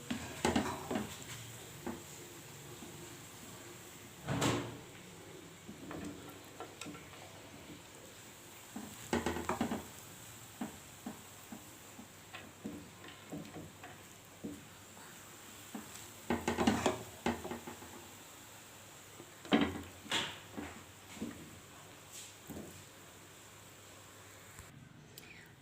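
Masala pulao is served out of the cooking pot, with sporadic scrapes and metallic clinks of a spoon against the pot, quiet between louder knocks.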